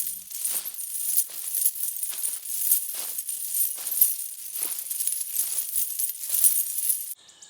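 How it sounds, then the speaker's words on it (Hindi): Small bells jingle over and over in quick, bright, shimmering bursts, like ankle bells shaking with each step. "तभी फिर से छन छन की आवाज आती है।"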